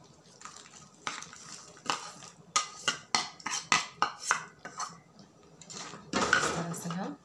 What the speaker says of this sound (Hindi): इस तरह से हम धीमी आंच में चलाते हुए हम पकाएंगे।